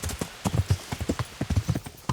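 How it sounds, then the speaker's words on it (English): Horse hooves gallop in a fast, steady clip-clop rhythm in the medieval game Kingdom Come: Deliverance, close and distinct with no talking over them. "This is why you get a fast horse."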